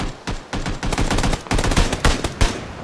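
Rapid bursts of gunfire in PUBG, coming from the west, loud cracking shots in quick irregular succession for nearly three seconds with no talking.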